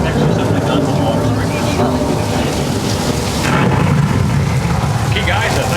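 Water poured to create a rain effect gives a loud, continuous hiss and patter of falling water, steady and dense throughout, close to the listener.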